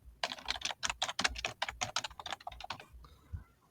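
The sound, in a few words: typing on a computer keyboard to rename a module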